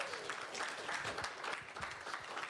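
An audience applauds at an RPG Limit Break 2026 gaming marathon, a steady wash of many hands clapping with a few louder individual claps standing out, no voices over it.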